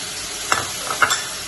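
Chili and coriander powder mixed with water into a paste, poured into a hot pan, sizzling faintly with a couple of brief stirring scrapes, close and fairly quiet.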